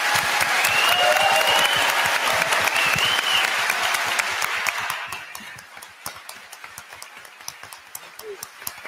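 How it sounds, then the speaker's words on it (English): An audience at a congressional candidate forum bursts into loud, dense applause that fades after about five seconds into scattered individual claps, with a few voices murmuring underneath. "Let's give them a bigger round of applause"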